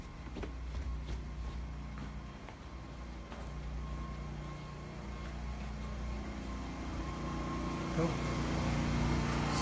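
A 3.8 kVA generator powering a 2 kW air conditioner, heard from about 7 m away: a steady low engine drone with a faint hum that holds at an even level throughout, slightly louder near the end.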